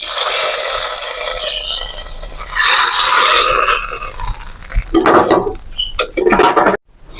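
Browned curry leaf tempering poured from a hot pan into a mackerel curry gives a loud, sustained sizzle that fades, followed by metallic clinks and scrapes of utensils against the pot.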